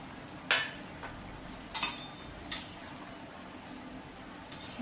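Fried paneer and capsicum going into a simmering curry pot, a few sharp metallic clinks of a spoon against the pot over a low steady background hiss.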